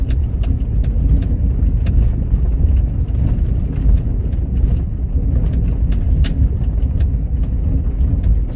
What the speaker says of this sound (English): It's very bumpy because this is all ice now.